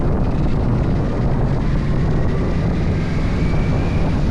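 Yamaha Royal Star Venture motorcycle with nearly 100,000 miles idling after a cold start, its carbureted engine giving a steady, loud low rumble that continues without change throughout.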